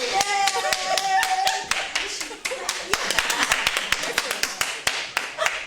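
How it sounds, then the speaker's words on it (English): A single person claps alone, loud sharp claps close by in an irregular, quickening rhythm, with a voice briefly heard early on. "I don't know if it sounds more corny with one person clapping or just none."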